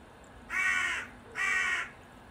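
A pet bird gives two loud, harsh calls, each about half a second long with a short gap between, close by over a quiet indoor background.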